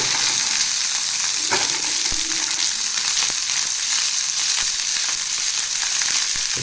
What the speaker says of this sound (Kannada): ಒಂದು 2 ಲವಂಗ ಮತ್ತು ಏಲಕ್ಕಿ, ಸ್ಮಾಲ್ ಚಕ್ಕೆ ಹಾಕ್ತಾಯಿದ್ದೀನಿ. ಲೈಟಾಗಿ ಉರಿದಿದ್ದೀನಿ, ಅದನ್ನು ಫ್ರೈ ಆಗಲಿ